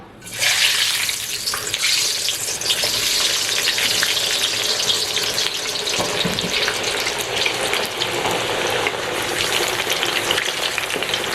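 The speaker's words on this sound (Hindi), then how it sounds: "तो अब इसके अंदर हम ये आलू और बैंगन दोनों फ्राई करेंगे, लेकिन अलग अलग। पहले आलू डाल देते हैं।" Potatoes fry in hot oil in an iron wok at a dhaba-style street food kitchen, a loud, dense, continuous sizzle that bursts in at the start and keeps hissing steadily throughout.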